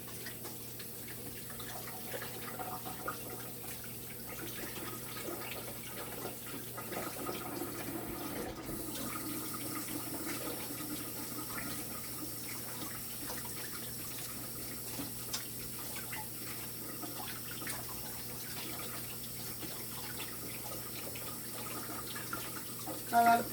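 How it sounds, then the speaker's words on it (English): Hands are rinsed under a running kitchen tap during dough and flour prep for dosi roti, a steady soft rush of water that runs the whole time at low level. "Let me just wash my hands."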